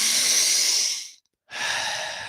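Deep, forceful breaths taken during a guided breathwork exercise: a long airy exhale, a brief pause of silence, then another strong breath, close and loud with no talking.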